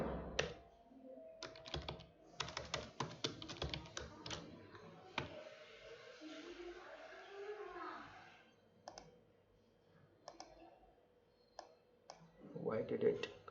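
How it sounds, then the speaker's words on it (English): Computer keyboard keys clicking in quick irregular bursts, fairly close, with pauses between runs and a voice talking over parts of it during a software Q&A session. "now I will type"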